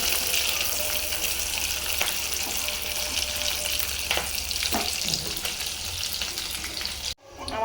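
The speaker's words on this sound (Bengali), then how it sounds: "এখানে যে রসুন আর পেঁয়াজটা একটু ভাজলাম" Garlic and onion frying in a pan of hot oil, a loud continuous sizzle with occasional stirring scrapes, cutting off abruptly near the end.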